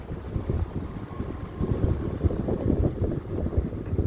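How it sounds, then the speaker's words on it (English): Steady low wind rushing and buffeting beneath a Ford F-250 pickup truck, a continuous hollow roar with no voices. "It's like a whistling air tunnel down here."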